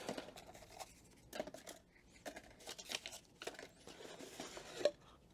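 Paper packaging inside an HTC VIVE XR Elite headset box being handled, with close, intermittent rustles, scrapes and crinkles in short bursts spread over several seconds.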